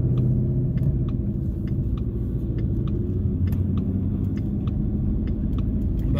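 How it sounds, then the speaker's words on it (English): Ford Mustang with billet differential inserts and upgraded bolts, driving along with a steady low road rumble and engine drone, faint diff whine blended in, constant and close, no talking. "With that, you are going to get a little bit of the whine and some feedback from the diff."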